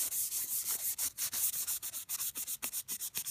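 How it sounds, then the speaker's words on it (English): Close, steady strokes of 1500 grit wet sandpaper rubbing an acrylic watch crystal, a rhythmic back-and-forth hiss repeating several times a second with brief pauses between passes. "I'm going to take some 1500 wet sandpaper, wet it down a little bit"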